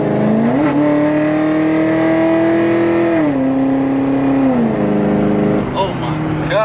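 A cammed, straight-piped Camaro SS V8 with headers and true dual exhaust roars loudly under hard acceleration, its pitch climbing steadily, dipping at a shift, then climbing again, heard from inside the car.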